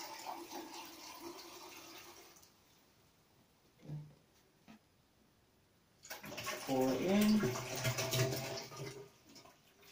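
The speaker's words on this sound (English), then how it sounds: "So I'm just using cold water in here." Cold water runs from a bathroom tap to fill a sensory bubble tube, a steady rushing wash that stops midway, then returns louder with a person talking over it.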